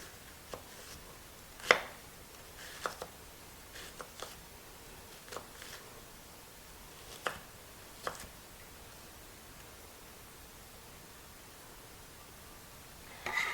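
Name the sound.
knife cutting slices of a peeled vegetable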